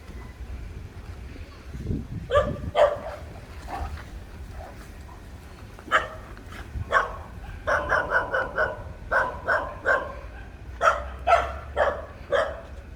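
A new puppy barks in quick repeated bursts, some in rapid runs, with a little wind noise and faint movement in between.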